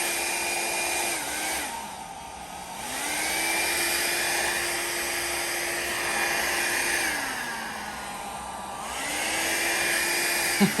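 A loud, continuous electric air blower roars steadily, its pitch dropping and rising several times as a foot pedal changes the motor speed.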